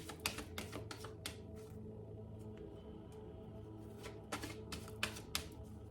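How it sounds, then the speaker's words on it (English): Oracle cards being shuffled by hand, soft quick riffling bursts that come in clusters with short pauses between, faint and close, with no talking. "One more shuffle for the underlying energy."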